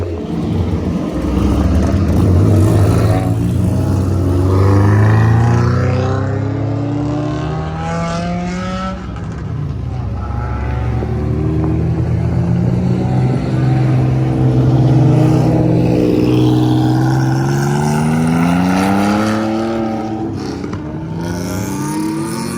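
A group of fast cars running down the Milwaukee Mile oval at a track day, their engines droning loudly and rising and falling in pitch as they pass, continuous and close.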